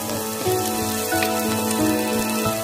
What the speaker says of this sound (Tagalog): Bawang or garlic. Gisa-gisa lang.